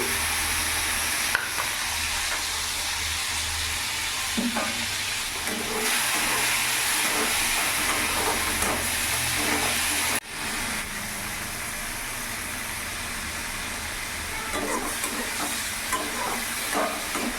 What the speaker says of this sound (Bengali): এরই মধ্যে আমি ধুয়ে রাখা চিংড়ি মাছগুলো দিয়ে দেবো